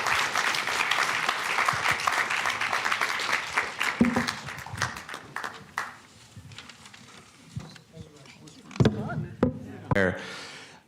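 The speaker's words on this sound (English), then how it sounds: "Round of applause to Sid and Sam and everyone in the panel." An audience at an MIT generative AI summit applauds a panel, the clapping fairly loud for several seconds, then thinning into scattered claps, handling noises and faint murmurs.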